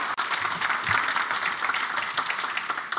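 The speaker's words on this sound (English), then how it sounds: "let's go ahead and give her a big round of applause" Steady, dense applause from a conference audience greeting a WebVR speaker at a tech event, many hands clapping continuously and fairly close for about three seconds with no talk.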